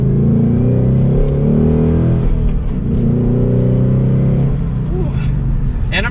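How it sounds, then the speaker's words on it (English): A 2022 Ford Mustang GT coupe with a V8 and six-speed manual roars steadily as it accelerates from second gear, a loud continuous engine drone heard from inside the car without pause for the whole stretch. "Listen to that V8 roar."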